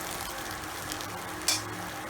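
Poha is stirred in a frying pan with a soft continuous sizzle and a brief sharp scrape of the spoon near the end, close and fairly quiet.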